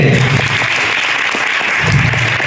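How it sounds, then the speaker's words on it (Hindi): Students and guests at a government middle school clap for the teachers, a loud, even burst of many hands lasting a few seconds with a faint murmur of voices beneath. "सारे शिक्षक के लिए एक ताली बजा दीजिए"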